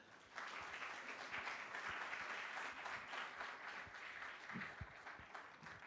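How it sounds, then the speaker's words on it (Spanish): Steady applause from an audience greeting a speaker at a formal panel presentation, dense even clapping heard slightly distant and continuing throughout. "les pido un fuerte aplauso para él."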